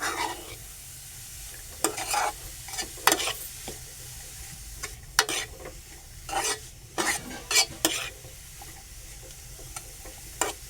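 Carrots for gajar halwa being stirred and sautéed in a pan, with a soft sizzle underneath and repeated scraping strokes of a spoon against the pan at an irregular pace, close and moderately loud.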